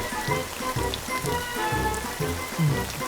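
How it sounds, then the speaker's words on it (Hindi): Rain falls in a steady wash over a rhythmic, pulsing music bed, with repeated low thumps and beats under the patter; no voices stand out. "बारिश में छाता लगा के नहा रहे हो?"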